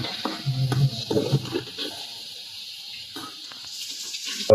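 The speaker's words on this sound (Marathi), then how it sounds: "मीठ टाकून पुन्हा ढवळून घ्यायचं" A spoon scrapes and stirs chopped onion masala with salt in a pan for egg pav, with soft intermittent scraping and a faint sizzle heard close and alone.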